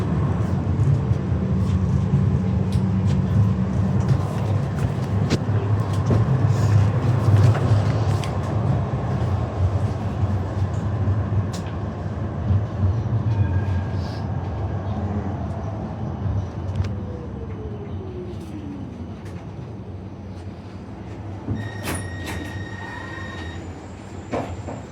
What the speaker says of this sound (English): This is a 5-motor tram.